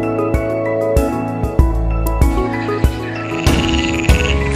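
A bullfrog croaks loudly and close by, its deep, resonant calls repeating in uneven bursts with strong tonal overtones and no voices over them.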